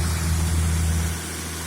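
An IH 1466 tractor engine drives a feed grinder outdoors in snow, giving a steady, low idling drone with strong low harmonics that holds evenly throughout and eases slightly near the end, with no talking.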